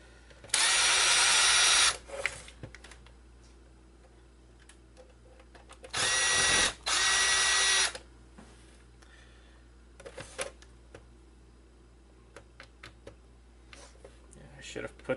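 A small electric screwdriver runs in short bursts while removing screws from a PS3 Super Slim console. There are two brief whirs close by, with light clicks and handling noises between them and a voice talking.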